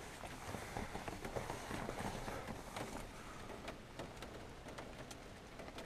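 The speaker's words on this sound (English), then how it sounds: "It's raining outside." Early-morning rain falls outdoors, a soft continuous patter with scattered sharper drops that stays faint and even throughout.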